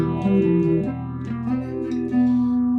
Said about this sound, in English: And I play my Phrygian scale